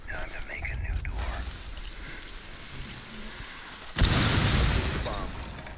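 A grenade going off in Rainbow Six Siege: a sudden loud blast that hits partway through and fades out, over steady in-game ambient noise, with faint voices early on.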